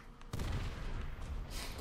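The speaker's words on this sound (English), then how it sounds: "That was delayed explosion." A muffled explosion booms in Call of Duty: World at War Zombies, a sudden heavy blast with a rumbling, crackling tail that fades but lingers through the rest of the moment, no voices over it.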